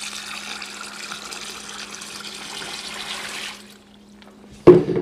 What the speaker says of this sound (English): I'm going to go ahead and add some water to it.